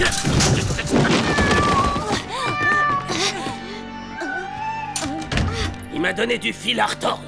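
A cat meows and caterwauls in several drawn-out, rising and falling cries, close and fairly loud, interleaved with people talking.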